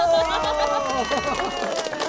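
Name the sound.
applause for a quiz participant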